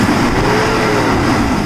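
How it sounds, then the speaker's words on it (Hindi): A Suzuki Grand Vitara's V6 six-cylinder engine running on CNG gives a low, steady rumbling hum from close by, idling evenly without any talk. "तो ये सुन सकते हैं आप आवाज़ ऐसी होती है V6 इंजन की।"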